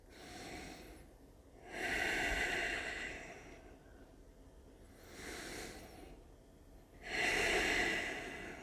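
Slow, deep yoga breathing during a class, with three long inhale-exhale swells rising and fading in a steady rhythm, close and fairly quiet, with no talking.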